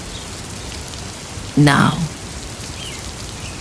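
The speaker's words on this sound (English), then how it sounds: "The rain is falling gently on the windows" Gentle rain falls on windows as a steady, soft hiss throughout, with a short spoken word rising briefly over it partway through.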